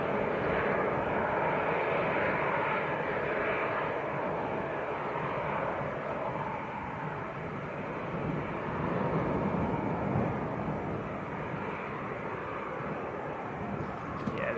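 An airliner passes over near Leeds Bradford Airport, its engines a steady, broad roar that holds for the whole stretch with no talk.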